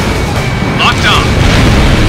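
An anti-aircraft gun blowing up after being destroyed in Ace Combat Infinity, a loud, sustained explosive roar over a continuous rumble, with a brief pilot radio voice crackling through.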